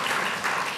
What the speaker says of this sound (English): you get applause